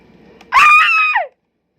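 A single loud, shrill scream in the Roblox horror game Survive the Killer cuts in after faint background noise, lasts under a second and then drops away into silence.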